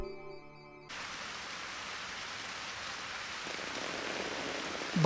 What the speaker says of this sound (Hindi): लीजिए, बारिश शुरू हो गई।